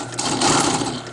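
Sewing machine running steadily through a north-south stitch on a diagonal repair to a Vector, a continuous close mechanical whir lasting the whole moment with no talk.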